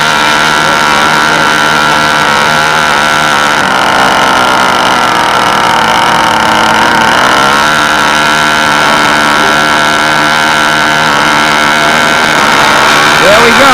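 Twin engines of a B-25 model airplane running with the throttles wide open, a loud, steady high-pitched buzzing drone that holds throughout the clip.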